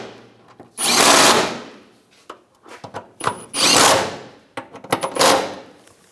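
A power tool tightens starter bolts on a 2006–2009 Mercedes-Benz E350. It runs in three loud bursts of whirring and rattling, and brief clicks and handling noises fall between them.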